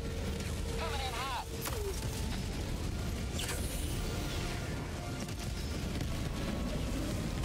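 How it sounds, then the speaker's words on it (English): Explosions rumble almost without break in a Helldivers 2 battle, after a 500 kg bomb drop, with booming blasts, shuddering low noise and a sharp whistling sweep, all loud and dense. "There's a lot of explosions going off."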